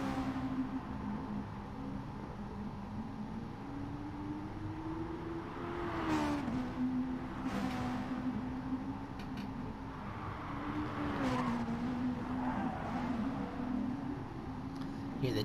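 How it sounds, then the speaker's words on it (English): Race car engine whining through corners in a GT racing video game at Brands Hatch, a steady tonal drone that rises and dips with speed, with brief bursts of tire noise and a voice talking over it. "Hear the tires screeching here through the final sector."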